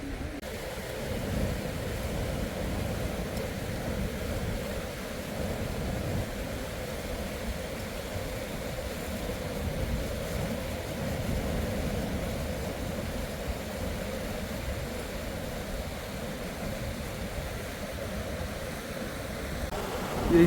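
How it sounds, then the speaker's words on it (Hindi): A fast-flowing, glacier-fed mountain river on the Har ki Doon trek rushes with a steady, dense roar that fills the whole stretch without a break. It sounds close and constant, and no one speaks. "नदी के पानी की आवाज़ बहुत ज़्यादा है।"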